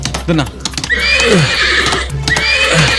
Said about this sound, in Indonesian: Kuda itu liar sekali.